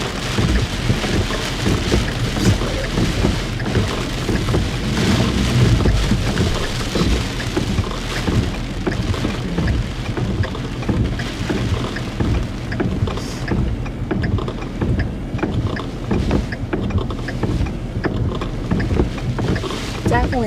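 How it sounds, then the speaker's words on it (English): Strong gusty wind roars continuously during a storm with a tornado threat in Minnesota, loud broadband buffeting close to the microphone, with rushing surges and a faint voice underneath. "Definitely gusty. Not sure if there's a tornado now, but probably not at this moment. Just really gusty winds."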